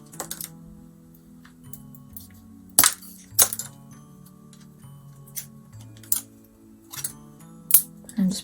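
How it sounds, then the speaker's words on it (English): Side twigs are snapped off a small branch to make a tiny garden rake, giving several sharp, close cracks and snaps spread irregularly over a quiet background with faint handling noise. "I'm just breaking off the sides, and that'll be my little garden rake."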